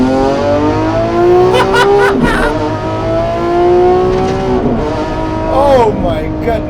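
A Lamborghini Aventador SVJ engine revs loudly and close at an airport, its pitch climbing and falling in repeated surges with sharp, crackling shifts between them.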